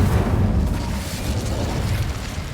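The Incendio fire spell cast in Hogwarts Legacy, a loud, sustained whooshing roar of flame with a deep rumbling body, steady across the whole stretch without talking.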